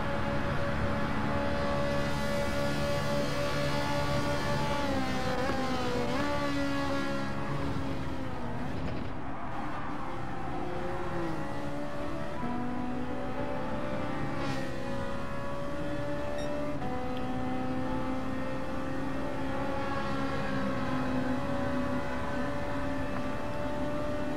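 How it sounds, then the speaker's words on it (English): A car engine in the video game Gran Turismo 7 hums steadily at constant volume, its pitch rising and falling smoothly through gear shifts and revs, with no voices. "while I'm not talking, you can enjoy the engine sound."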